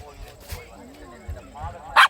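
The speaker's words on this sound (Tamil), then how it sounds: "நாய் எல்லாம் வந்துருக்கு பாருங்க." Dogs yip and bark in short bursts around a night camp on Palaitivu island off Jaffna, with one sharper bark near the end, while people talk nearby.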